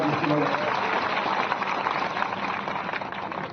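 Crowd applause at a BJP political rally in Pandariya, a dense, steady wash of many hands clapping throughout, with indistinct voices mixed in.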